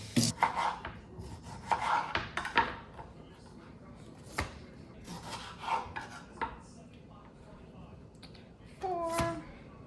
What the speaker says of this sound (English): I'm gonna split up 2 apples.